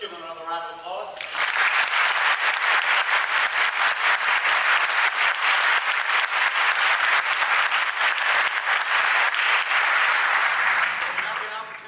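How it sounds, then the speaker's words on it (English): An audience at a formal debate on whether God exists breaks into loud, sustained applause that fills the hall for about ten seconds before it begins to fade. "let's give them another round of applause"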